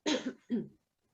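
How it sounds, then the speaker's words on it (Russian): Two short, close coughs in quick succession, then silence. "немножко болею, извините, кашляю."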